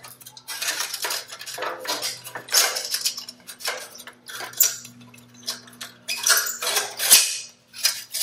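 Metallic clicks and scrapes of a tool unscrewing a screw on a Harley Davidson Sportster S stock exhaust, irregular close clinks and ratcheting bursts with brief pauses and one sharp tap near the end.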